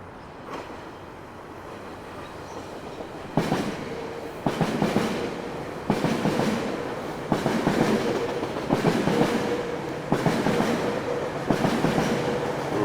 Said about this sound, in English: waiting for the train to go by here